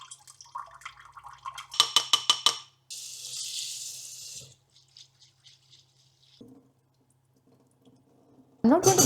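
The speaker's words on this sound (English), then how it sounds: "I'm giving it a good wash and then I'll soak it in water." Little millet and moong dal rinsed in water in a kitchen, with quick rattling grains and drips, then a steady running-water rush, scattered faint clinks, and a louder splash at the end, close by.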